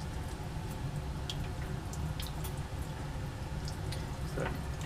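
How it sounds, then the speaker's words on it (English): Cold tap water runs over hot laboratory glassware in a steady, fairly quiet rushing wash, with a few faint drips and clinks scattered through it. "during which time I can run some cold water on these guys."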